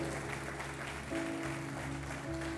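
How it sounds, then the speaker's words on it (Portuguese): A church congregation at an evening communion service applauds, producing a dense, steady wash of clapping that continues throughout over sustained musical tones. "Você pode aplaudir a Ele."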